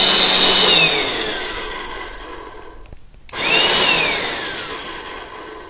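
A Wagner paint sprayer pump runs with a loud, steady whirring hiss and a rising-then-falling whine, cutting out briefly midway before starting up again at full strength.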